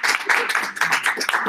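An audience at a kizomba dance talk at a university campus breaks into applause, dense rapid clapping close and loud for a short burst, with some voices mixed in.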